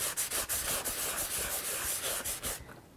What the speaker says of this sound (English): You're going to take your paper towel and just rub it in the shoe polish.